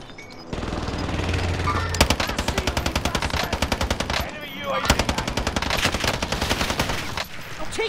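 Rapid automatic gunfire fills a Call of Duty match, with long loud bursts of machine-gun fire broken by short pauses and a few single shots, close and dense throughout.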